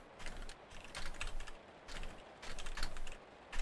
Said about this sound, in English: You can hear me typing so loudly